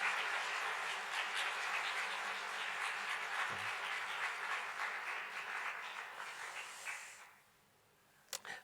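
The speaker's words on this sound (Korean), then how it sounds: "우리 박수 한번 드리도록 하겠습니다" A church congregation at a New Year's Eve service claps together in sustained, moderately distant applause that slowly thins out and stops, followed by a few isolated sharp claps.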